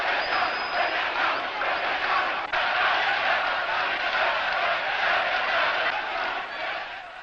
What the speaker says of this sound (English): They are cheering this man.